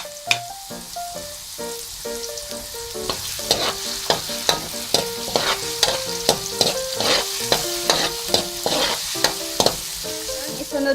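Garlic sizzles in a pan as the start of Filipino bopis, with a spatula tapping and scraping in a quick, regular rhythm over a steady frying hiss and soft background music.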